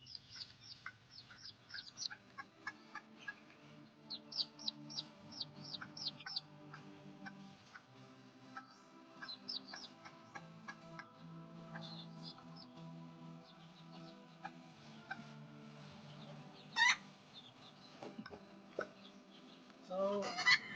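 Newly hatched Serama chicks peep with high, rapid chirps alongside a hen's low clucking, close by and continuous, with a few louder calls toward the end.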